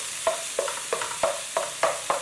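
Minced pork with chili and a splash of cooking wine is tossed in a wok, a low sizzle broken by about seven regular spatula scrapes spaced roughly a third of a second apart.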